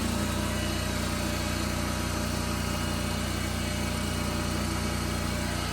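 A 1997 Simplicity Sovereign garden tractor engine idles steadily, a constant close, loud mechanical drone with a low throb, set up for snowblowing.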